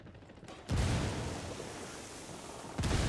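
A frag grenade detonates in the Bolivian setting of the shooter game Ghost Recon Wildlands, a loud booming blast that hits suddenly and rumbles on, followed by a second heavy burst near the end.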